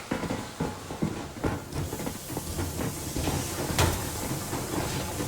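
A steam train sets off in the video game Metro Exodus, making a loud, continuous hiss of steam broken by irregular chuffs and metallic clanks.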